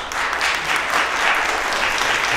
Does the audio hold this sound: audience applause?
yes